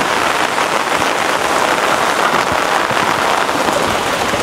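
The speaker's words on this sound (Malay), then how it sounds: "Ini adalah kita datang musim hujan, jadi dengan kehujanan lah kita." Heavy rain falls at a cultural village in Kuching, Sarawak, a loud, dense, unbroken patter on surfaces close by with no voices.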